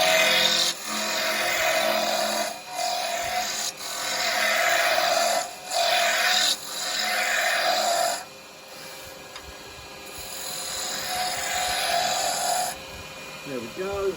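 Roughing gouge shaping a spinning wood blank on a lathe, a rough rasping cut in several bursts with short gaps, then a quieter, softer stretch of rubbing toward the end.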